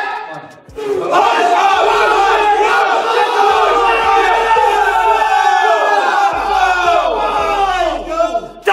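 A big crowd roars and cheers at a heavyweight strength event, a loud, dense wall of shouting voices that holds steady for the whole stretch after a brief dip at the start.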